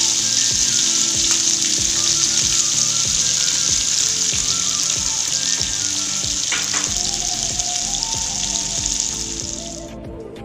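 Chopped tomatoes sizzle steadily in hot oil with bay leaf, dried red chilli and panch phoron for a Bengali-style tomato chutney, a loud, continuous frying hiss that fades slightly at the end.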